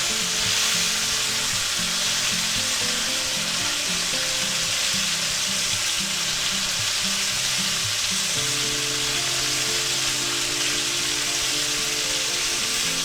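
Thick chuck steak frying in butter in a hot pan, a dense, continuous loud sizzle close up that holds steady throughout, with a low humming tone underneath and no voices.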